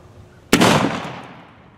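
A single loud black powder pistol shot, a 490 round ball over a 45-grain powder charge with a 10-thousandths patch, fired from a Lyman Plains Pistol or Traditions Trapper, booms sharply and then rolls off in a fading tail.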